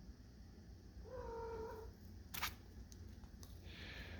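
Cat voice at close range: a single short meow with a clear, rising-falling harmonic tone, followed by a sharp click and faint rustling in a quiet room.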